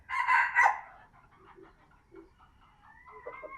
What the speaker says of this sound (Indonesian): kita lihat ayam-ayamnya